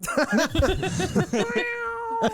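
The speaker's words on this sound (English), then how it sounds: "we have to mention one of the true heroes of the movie, and that's Claude the cat" A cat meows a few times in a scene from the 1974 holiday slasher film Black Christmas, with the calls close and clear over layered film-soundtrack sound and a steady tone toward the end.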